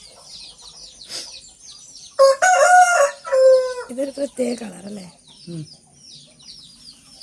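An Aseel Kerala rooster, a breed kept on a Kerala farm, gives a loud, clear crow near the middle, with other birds calling faintly and a person talking before and after it.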